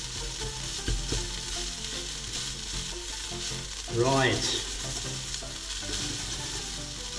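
Steady sizzling of minced meat and onions frying in a hot pan for bolognese, with a brief scraping stir midway and a single short spoken word.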